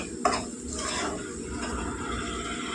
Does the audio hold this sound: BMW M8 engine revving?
no